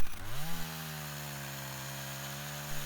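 A Makita DCS340 chainsaw cuts through a small tree stump, its engine roaring at first, then settling into a steady high whine that holds for a couple of seconds before loading up again at the end.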